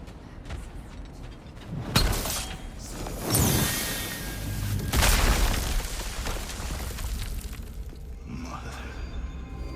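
A heavy mechanical door grinds open in God of War Ragnarök, with clanking mechanisms, booming thuds and whooshing surges over several seconds; a voice briefly speaks in the background.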